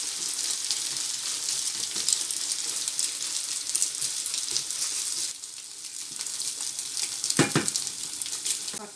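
A cabbage and egg omelette mixture sizzles and fries steadily in melted butter in a pan, a close, continuous crackle with occasional stirring or scraping noises.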